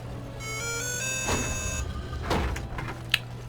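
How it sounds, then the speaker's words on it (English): A phone text message notification sounds as a steady, bright, multi-tone chime held for over a second, then fades into muffled background clatter and brief murmurs. "And I got a text message."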